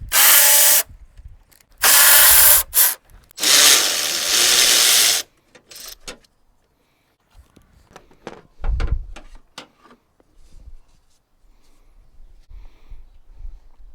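A power tool runs in three loud, close bursts while removing 1/2-inch bolts from the battery bracket of an 08-18 Sierra, Silverado or Tahoe truck. Quieter metallic clanks and handling noises follow.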